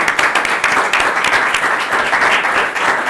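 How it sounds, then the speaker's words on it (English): Conference audience at Atlassian Open in Vienna applauding the event team, a dense, steady wash of many hands clapping that holds loud and even for the whole stretch. "So I would ask you to give me a small applause for the people who made it happen,"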